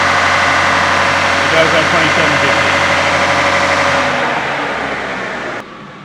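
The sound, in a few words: diesel car engine under full throttle while driving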